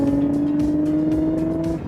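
An Erbacher Porsche restomod accelerating hard, its engine note climbing steadily in a strong, tonal drone close to the microphone, with slight rhythmic pulses over the engine hum and no speech.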